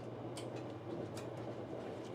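Steady rumble of a train moving on rails, heard from inside the carriage, with a constant low drone and faint periodic clicks of the wheels.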